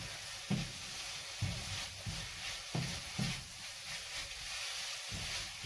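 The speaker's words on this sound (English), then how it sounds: "Mix all that round so that the spices you just put in covers all of your mix." Spices are stirred into a sizzling mix in a pan on a gas hob, with a steady hiss of frying and regular scraping strokes about once a second.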